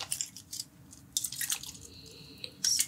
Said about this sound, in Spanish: Antes de eso quiero ponerte un poquito de agua termal, como para que tu cara se refresque un poquito